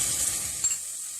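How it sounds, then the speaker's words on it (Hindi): Garlic ginger paste frying with sliced onions in hot oil in a pan, a steady bright sizzle with a little stirring, close and continuous, no talking. "प्याज में बहुत लाइट गोल्डन सा कलर इसमें आ चुका है। इसमें आप लहसुन अदरक की पेस्ट डाल देंगे,"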